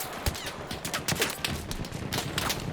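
Dense automatic gunfire in the Battlefield 6 video game, loud, rapid overlapping bursts and cracks sustained throughout with no pause.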